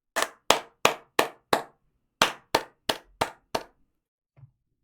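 A short burst of sharp, distinct hand claps, five evenly spaced, a brief pause, then five more, crisp and close with no voices.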